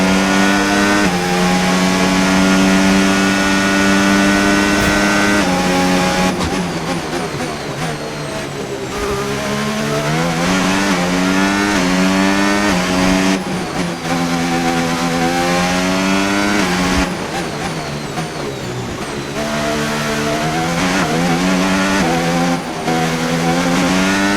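An F1 race car in the F1 25 video game on Xbox Series X screams at high revs. Its engine pitch climbs and drops repeatedly through gear shifts and braking zones, loud and continuous throughout.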